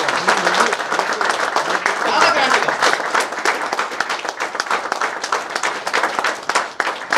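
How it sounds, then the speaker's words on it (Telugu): Loud, sustained audience applause fills a hall during a health team presentation, dense clapping from many people with a voice briefly speaking over it. "ఒక్కసారి వీళ్ళకి హాల్ దద్దరిల్లిపోయిన గట్టిగా క్లాప్స్ ఇవ్వాలి సార్ మనం."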